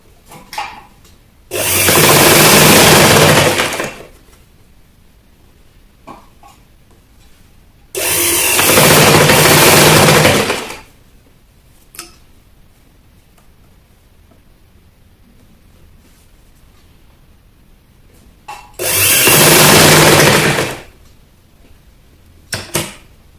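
Sewing machine stitching a seam on a delicate-fabric peplum blouse, three loud sustained runs of a few seconds each, separated by quiet pauses with small handling clicks.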